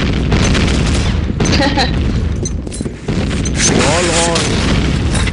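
Grenade and RPG explosions in a video game, loud overlapping booms and gunfire packed together, with voices talking and shouting over the chaos.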